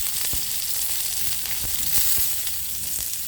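Onions sizzle in hot oil in a pan with dried chillies and bay leaves, a loud continuous hiss broken by a few soft stirring knocks, close and without speech.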